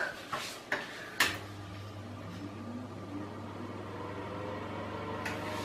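A kitchen oven running while it preheats to 175 degrees centigrade, giving a steady low hum that sets in after a few clicks and knocks and then carries on alone at an even level.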